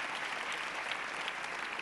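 An audience at a fireside chat breaks into brief, steady applause, a dense patter of many hands heard fairly softly and alone.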